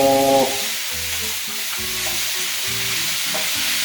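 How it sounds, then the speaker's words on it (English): Mince browns in a frying pan, sizzling steadily while a utensil stirs and breaks it up with repeated scraping and clacking against the pan, close and clear with no talk. "stir the mince, breaking it up and browning it"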